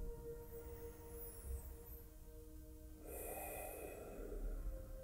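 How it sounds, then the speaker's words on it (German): Deep, slow breathing during a morning yoga session. The second half brings a louder, breathy exhale over a quiet, steady background hum, with no talking. "Und nochmal tief durchatmen."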